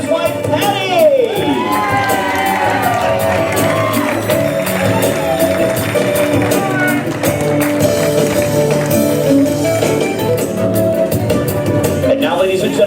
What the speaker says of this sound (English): a nice big round of applause for the father of the groom